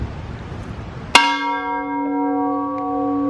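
An old courthouse bell at an abandoned historic building in Utah is struck once, a sudden loud clang that rings on with a long, sustained metallic hum after faint outdoor background.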